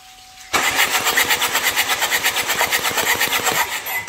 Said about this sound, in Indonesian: Nah, kita starter mobilnya.